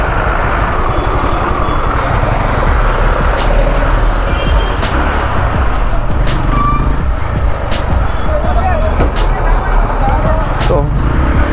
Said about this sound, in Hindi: भाई ट्रैफिक जाम बहुत ज्यादा है, ये श्योर मेले की वजह से गाइस